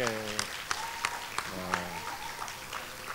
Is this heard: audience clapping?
yes